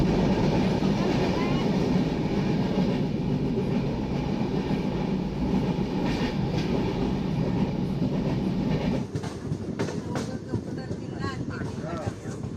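Konkan Kanya Express, the Mumbai CSMT to Madgaon train, pulling into Kankavli station: a loud, steady rumble of rolling coaches that drops in intensity near the end as the train slows, with faint voices mixed in.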